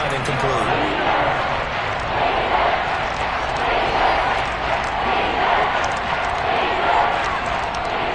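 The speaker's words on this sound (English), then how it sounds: "the crowd getting into it as we come up on a big 3rd down" A football stadium crowd roars and cheers during a big third down, a dense and steady wall of voices that holds at an even level throughout.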